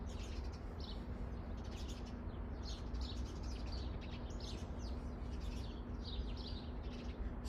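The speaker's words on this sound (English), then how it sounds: "Birds are letting us know." Birds chirp in brief repeated bursts outdoors, faint and distant over a constant low hum and background noise.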